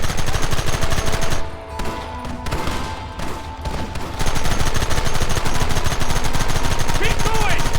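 Dense, continuous gunfire from the Western video game Red Dead Redemption, rapid overlapping shots in a sustained fusillade with a brief dip in the middle, loud and close throughout.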